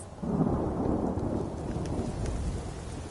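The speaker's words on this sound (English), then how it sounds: "Is that a thunderstorm in Skyrim?" A thunderstorm in the video game Skyrim rumbles with a low, sustained roll of thunder over steady rain, loud and continuous throughout with no voices.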